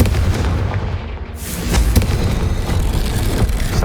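A Confringo fire spell exploding in the video game Hogwarts Legacy, a loud, dense booming blast with crackling bursts that rumble continuously through the moment.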